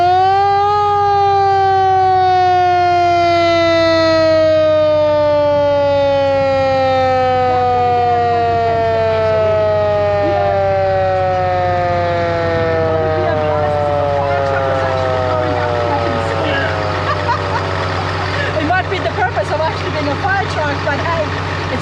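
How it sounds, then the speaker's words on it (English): The 1941 siren on a Dodge fire truck winds down from a high wail in one long falling tone, loud and close, with a low engine hum beneath. "Show us the siren. Good. The 1941 siren,"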